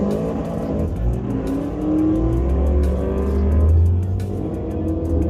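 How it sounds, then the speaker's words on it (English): A Camaro doing a burnout at a drag strip, a loud sustained engine roar with rising revs and a steady tire-spinning rasp, holding strong throughout without talk. "He's doing burnout, and we're gonna come up."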